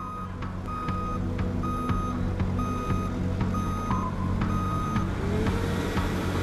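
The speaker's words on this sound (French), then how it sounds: "l'énorme véhicule atteint le plateau situé à 5000 mètres d'altitude avec son précieux chargement" An enormous truck hauling a telescope antenna on a 5,000-metre high plateau gives off steady, evenly spaced reversing beeps over a loud, low diesel engine rumble, close and continuous.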